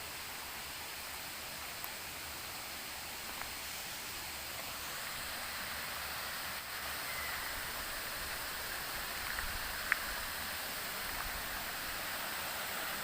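Steady broadband rush of a river flowing beside an abandoned resort, constant and even throughout, with no voices.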